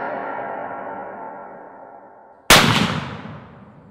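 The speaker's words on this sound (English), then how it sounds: "it was here that he first learned his lesson about shooting a Mosin while prone" A Mosin Nagant rifle fired from the prone position at an outdoor range cracks once, a sudden loud blast that cuts off a steady background noise and trails into a long, fading echo.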